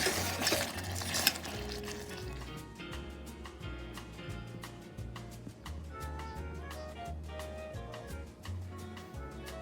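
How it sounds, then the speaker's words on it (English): Vegan egg foo yung gets stirred in a pan with utensil scrapes and clinks over faint sizzling, while steady background music plays throughout at moderate level. "Stir it up and we're done."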